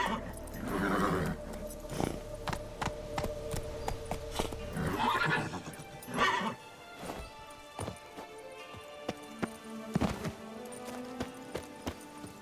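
Geralt's horse Roach in The Witcher 3, whinnying and snorting close by among sharp hoof clops and scattered thuds and clatters, with several loud neighs over about twelve seconds.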